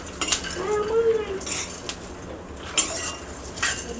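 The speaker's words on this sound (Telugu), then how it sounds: "చట్నీకి అయితే పప్పులు వేయిస్తున్నాను" Lentils roast in a pan for chutney, a spoon scraping and clinking against the metal in sharp intermittent strokes, close and fairly loud, with a faint sizzle beneath and no talking.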